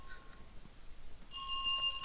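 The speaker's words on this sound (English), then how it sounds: "The ringing echoes down the hallway." A rotary telephone rings in the horror video game Dread Weight, a bright metallic bell trill starting after a quiet stretch and continuing steadily, fairly faint and echoing down a hallway.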